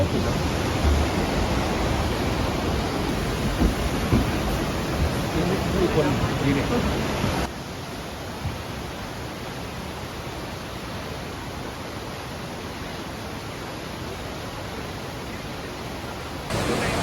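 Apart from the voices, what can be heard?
waterfall roaring at the lowest viewing level, Nikko, Japan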